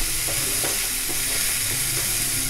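Malvani masala fries in hot tempering oil with a constant crackling sizzle, and several light stirring scrapes land over the steady hiss.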